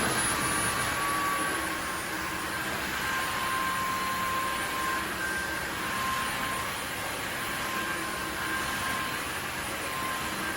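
A Dreame H12 Pro wet dry vacuum runs with increased suction, a loud, steady whooshing roar with a constant high motor whine and no pauses.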